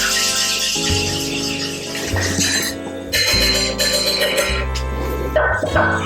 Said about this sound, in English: you can shake it until you don't hear any more ice rattling around in there.